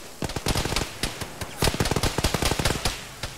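Rapid automatic gunfire fills a firefight in Arma, with dense bursts of close, loud shots cracking in quick succession and brief gaps between volleys.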